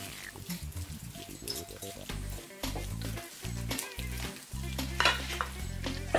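Italian wedding soup ingredients seasoned with nutmeg are stirred and mixed in a pot, giving steady scraping and sizzling kitchen sounds with no talking.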